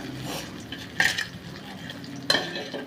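Crushed shallots go into a pan of frying mushroom gravy and are stirred, with a spoon scraping and clinking twice against the pan over a low, steady sizzle.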